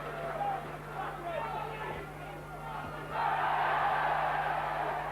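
A heavyweight boxing crowd at the Derek Williams vs. Jean Chanet rematch murmurs under steady arena noise, then a loud burst of cheering erupts after a right hand and holds to the end.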